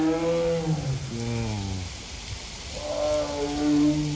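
A tiger at the El Paso Zoo gives deep, drawn-out roaring groans in two long bouts with a short pause between, loud and close, no talking.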